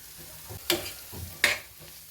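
Butter and cheese cubes melt in a pan with masala for cheesy pav, a soft low sizzle broken by two sharp scraping stirs of a spatula, close and without talk.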